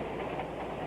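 Train rolling along the tracks aboard a 1930s passenger train, a dense steady rumble and clatter filling the clip, continuous and close, with no voices.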